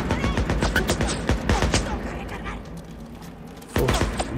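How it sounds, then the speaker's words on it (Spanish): Gunfire cracks out in the video game Days Gone, including a shotgun blast. Several loud, sharp shots come in a burst, followed by quieter game sounds and then one more sudden blast near the end; a voice talks over parts of it. "Uf, disparo de escopeta."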